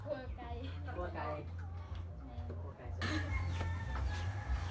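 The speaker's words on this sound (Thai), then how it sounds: "ตัวไก่" Chickens cluck and a rooster crows at a rural village home, with several short calls spread across the clip while people talk nearby.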